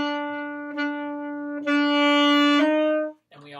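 Alto or baritone saxophone plays a sustained phrase from a sixth-grade all-county tutorial excerpt, swelling into a stronger, accented note partway through and then cutting off, close and solo.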